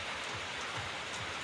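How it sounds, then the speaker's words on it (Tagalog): Heavy rain falls steadily and loudly in a dense, continuous hiss with no break across the whole stretch, and no voices can be heard. "Sobrang ulan ngayon."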